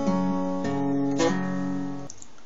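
Acoustic guitar picks a short lick with ringing open-string notes and a hammer-on, three plucked attacks sustaining close and clear without talk.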